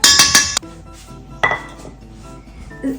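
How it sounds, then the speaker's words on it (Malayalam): Whisking almond cookie mixture in a bowl gives a few sharp metallic clinks and scrapes against the bowl, loud and close, separated by quieter pauses. "എന്നിട്ട് മറ്റേ കൈ കൊണ്ട് വിസ്ക് ചെയ്യണം."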